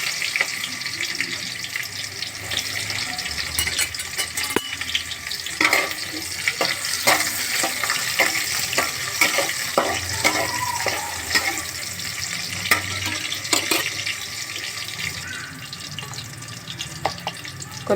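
Green chilies, curry leaves and onion frying in oil, a dense close sizzle with frequent scraping and clinking of a spoon stirring through the pan, steady throughout and free of speech.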